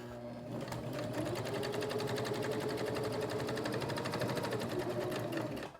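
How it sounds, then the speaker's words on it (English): A sewing machine stitches steadily across the bottom opening of a tie-dyed tote bag lining, its rapid even needle rhythm running loud and close for nearly the whole stretch before stopping at the end. "I'm going to stitch the bottom where it's open right here"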